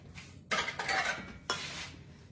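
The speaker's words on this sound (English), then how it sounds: "Stirring it, making it well mixed" Spoon stirring a meatball mixture of meat, milk-soaked panko breadcrumbs and milk in a bowl, a few close scraping and clinking strokes, fairly soft.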